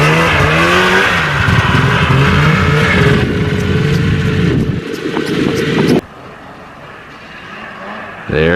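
A Yamaha VMAX 500 snowmobile with a rebuilt engine revs hard up a hill, loud, rising whine with strong harmonics that holds, then drops sharply away to a quieter distant drone.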